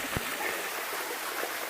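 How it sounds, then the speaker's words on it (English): A small, low-flow waterfall at the top of Horsetooth Falls in Colorado gives a soft, steady hiss of falling water with a faint splash near the start, heard alone at low level. "kind of a typical Colorado waterfall. Not a lot of water."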